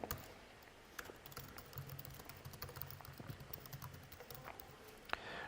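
Faint, quiet clicking of keys on a computer keyboard comes in irregular bursts of taps over a low background hum.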